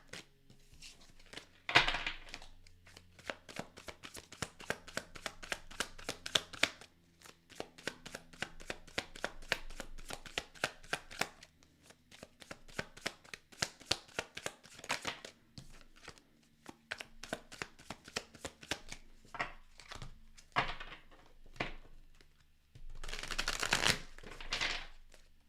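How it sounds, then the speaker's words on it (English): Tarot cards are shuffled by hand in close, rapid bursts of riffling and tapping, with brief pauses between rounds and a soft slide at the end. "And let's get your main deck shuffled."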